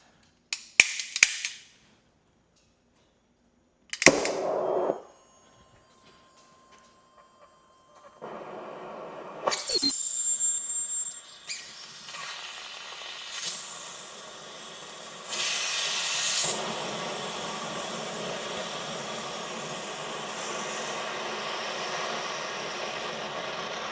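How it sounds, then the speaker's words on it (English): An oxygen-propane cutting torch is lit for cutting a daisy plate: a few sharp clicks and bursts, a pop of ignition, then a steady roaring hiss of flame that continues at a constant level. "we got a really nice flame going there"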